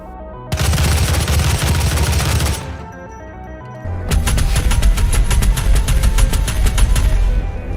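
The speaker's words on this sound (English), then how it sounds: "especially with the machine gun, they sound even worse than Doom 4." Rapid automatic machine-gun fire in the video game Doom Eternal, loud and dense, two sustained bursts separated by a short lull with no talk.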